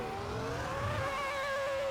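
A Ferrari F2004 Formula One car in the racing game Assetto Corsa pulls away, its engine note rising smoothly in pitch as it revs up, steady and moderately loud with no talk.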